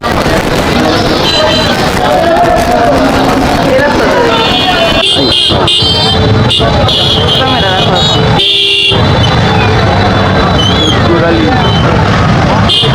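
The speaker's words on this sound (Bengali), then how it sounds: "এখনই রাস্তার মধ্যে গাড়ির জ্যাম" A loud, busy street jammed with vehicles, engines idling while car horns toot again and again, with people talking and shouting throughout.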